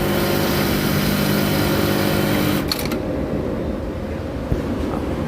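A buttonhole sewing machine runs with a dense, steady mechanical whir while stitching a hole, then shifts abruptly to a quieter run broken by a few sharp clicks as the knife cuts.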